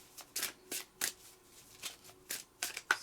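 A deck of tarot cards is shuffled by hand before a nine-card spread, giving quick, close crisp riffles and slaps in an uneven rhythm of about a dozen bursts, with no talking.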